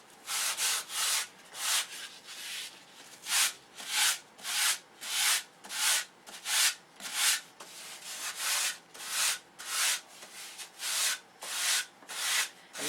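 Wooden airfoil flaps being sanded by hand, rhythmic back-and-forth strokes about one per second, each a bright rasping scratch, close and steady with short pauses between passes and no talking.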